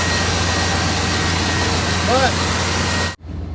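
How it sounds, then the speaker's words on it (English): A Chevrolet Cheyenne truck engine idles with a steady low rumble and a brief rising whine partway through, then cuts out abruptly near the end, leaving only quiet background. "tap the throttle so they can idle it down"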